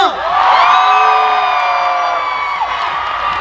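A large crowd cheers and screams loudly and steadily at an outdoor festival closing concert, a sustained roar of shouts and whoops that slowly eases toward the end.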